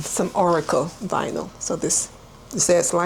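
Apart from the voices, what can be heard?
None of the usual background noises is heard.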